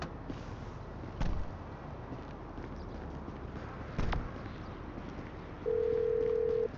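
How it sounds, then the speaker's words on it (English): A cell phone ringtone in Grand Theft Auto V, a steady electronic tone near the end over quiet game ambience, preceded by two brief thumps. "Whoa, who changed my ringtone?"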